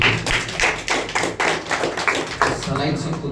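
Church congregation clapping in praise, a burst of sharp irregular handclaps with thumps close by, mixed with some voices.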